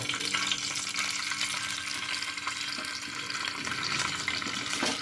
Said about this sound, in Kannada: ಸ್ವಲ್ಪ ಪನ್ನೀರ್ ಫ್ರೈ ಮಾಡಿ